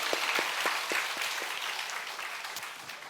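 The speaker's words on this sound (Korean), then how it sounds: "한 분한테 우리 권사님 하면서 박수하겠습니다." A church congregation applauds during a worship service, starting with a few rhythmic claps that spread into a soft, continuous patter that slowly fades, heard from some distance.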